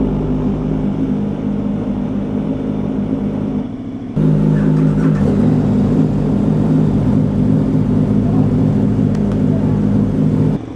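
A KTM motorcycle engine idles steadily after starting, a continuous low rumble that grows a little louder and fuller partway through, with no talk over it.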